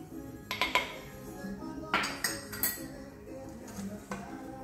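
A mofongo mixture of bacon, pork rinds, onion and garlic is crushed in a mortar, giving irregular sharp knocks and clinks of a pestle against a hard bowl with some grinding between them.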